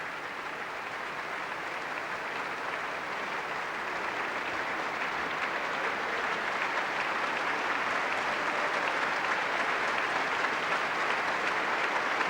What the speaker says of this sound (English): the tremendously enthusiastic applause of the audience here